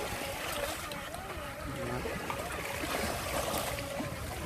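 An FT009 radio-controlled boat runs through waves at sea, its small motor whining steadily at a moderate distance amid splashing water and wind.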